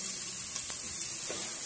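Food browns in a pan for fish-head pirão with vitamin-rich rice, giving a steady close hiss of frying with faint stirring clicks and no talk.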